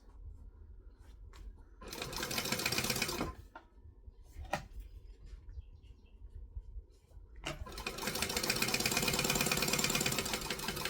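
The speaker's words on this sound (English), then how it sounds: "I'm going to top stitch along the top edge." A sewing machine top stitches along the top edge of a Kangaroo bag, two close bursts of rapid mechanical stitching separated by a pause with small clicks and handling taps.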